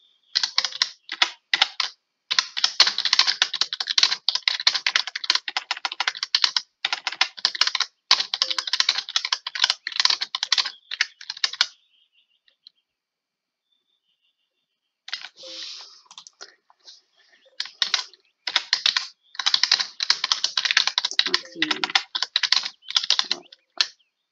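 Rapid typing on a computer keyboard gives dense runs of close, crisp key clicks in long bursts, with a quiet pause of a few seconds midway before the typing resumes.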